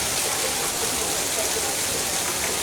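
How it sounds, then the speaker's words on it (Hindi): Heavy monsoon rain pours down over a flooding market street in Ramgarh Shekhawati, a dense, constant roar of water with no breaks. "बहुत ही शानदार बरसात"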